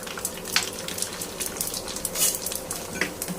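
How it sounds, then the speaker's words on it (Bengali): Fuchka puris fry in leftover oil from onion fritters, a soft continuous sizzle broken by light clinks and scrapes of a utensil against the pan, close and fairly quiet with no talking. "ওই পেঁয়াজু ভাজার তেলের মধ্যেই আমি ফুচকাগুলো ভেজে নিব"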